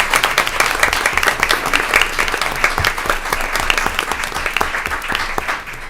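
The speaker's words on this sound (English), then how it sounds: "So we'll give them a round of applause." An audience at a school board of education meeting applauds steadily, dense clapping sustained throughout at a fairly loud, even level.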